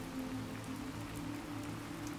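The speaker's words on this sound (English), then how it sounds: "the percussive rain" Steady rain falls on a surface with a dense, even patter of drops that stays constant from start to finish, with no voices.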